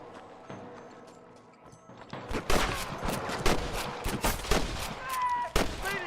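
Rapid gunshots erupt in a Red Dead Redemption video game shootout, starting sparse and quiet, then building into a loud, dense volley with hoofbeats and scattered mechanical sounds.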